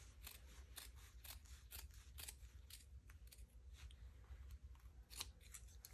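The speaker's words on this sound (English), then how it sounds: "usually I just trim down one side of my seam allowance" Scissors trimming a denim seam allowance on a skirt, with a steady series of close, crisp snips over a low background hum, faint overall.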